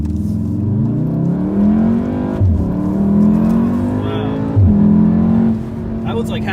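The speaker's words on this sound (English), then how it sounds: "That was like half throttle, powering around the turn, and there's no push at all." A Volkswagen Golf R with all-wheel drive revs and accelerates around a turn at half throttle, a rising, sustained drone with shifting pitch, loud and close, with a couple of brief dips.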